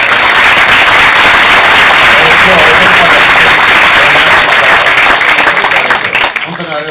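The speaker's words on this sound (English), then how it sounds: "So big round of applause for that" Audience at the Terracotta Film Festival 2012 applauding after a film Q&A: a dense, steady wash of clapping that holds loud throughout, then thins and tapers near the end.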